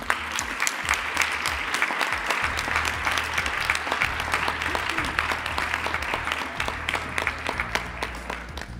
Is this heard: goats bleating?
no